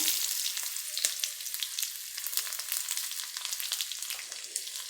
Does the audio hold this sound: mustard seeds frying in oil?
yes